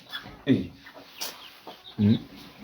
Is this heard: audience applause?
no